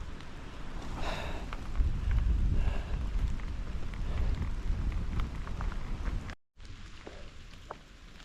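Steady rain falls on the Appalachian Trail on a foggy, cold day, a constant soft hiss with faint scattered drops, briefly cut off by a short silence.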